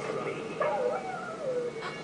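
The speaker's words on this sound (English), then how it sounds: "Is that the dog?" Hewie the dog in the video game Haunting Ground gives faint whimpering, yipping barks and whines, soft and slightly distant, with no speech.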